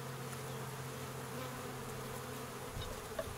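Bees buzz inside a hiving trap in a steady, close, continuous drone that holds an even level throughout, with no voices.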